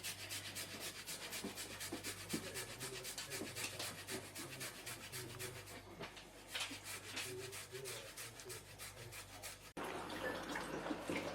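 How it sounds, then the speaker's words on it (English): Grating an ingredient on a microplane into a mixing bowl for butter chicken: steady, rapid scraping strokes in an even rhythm, close and continuous for about ten seconds, with no talking. "we're gonna again grate this with your microplane into the mix"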